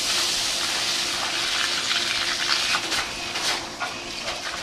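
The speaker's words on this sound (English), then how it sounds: "The first thing I like to do is put about 20 gallons of water in the receiving hopper." About 20 gallons of water pour into the receiving hopper of a concrete pump for skid-steer loaders, a steady broadband gushing and splashing that runs the whole time with slight surges, close and moderately loud.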